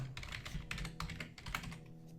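Quick bursts of clicky computer keyboard typing, several rapid keystrokes in short clusters with brief pauses, fairly quiet and close with no voices.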